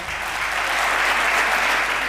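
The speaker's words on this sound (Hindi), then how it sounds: "मैं चाहता हूं एक बार जोरदार तालियां आप उसके लिए बजाएं।" Loud, sustained applause from an audience at a Hindi poetry recitation event honoring the tricolour flag, a thick unbroken roar of clapping from start to finish.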